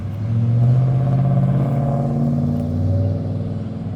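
A Ford F-150 pickup truck drives past close by, its engine giving a loud, steady rumble with a slight revving swell over about four seconds, no talking.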